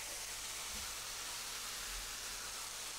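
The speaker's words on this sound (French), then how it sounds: "Et je marque directement en cuisson les blancs de volaille." Chicken breasts searing in hot sesame oil in a pan for teriyaki chicken, a steady, close, loud sizzle with a dense hiss throughout and no talking.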